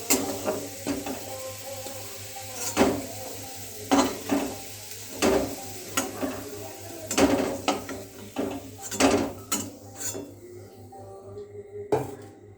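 Utensil clatter and clinks of fried potatoes being lifted out of hot oil over a lowered gas flame, repeated sharp knocks and scrapes in an irregular rhythm above a steady low hum, close and moderately loud.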